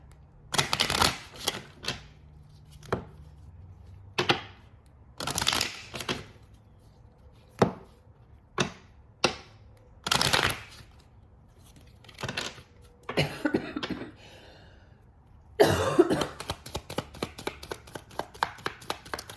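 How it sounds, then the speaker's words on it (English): A Kipper card deck being shuffled, with repeated sharp riffling bursts and pauses, then a longer rapid flutter of cards near the end, close and fairly loud. "Let's pull in some cards here from the Kipper deck."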